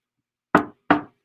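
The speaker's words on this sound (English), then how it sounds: "knock on wood" Two sharp knocks on a wooden surface, close and distinct, about a third of a second apart, with silence around them.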